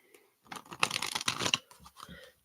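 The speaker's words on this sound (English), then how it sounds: "we'll shuffle it up to get some messages for you" Quick, crisp riffling and slapping of tarot cards being shuffled, a short burst of papery flicks up close.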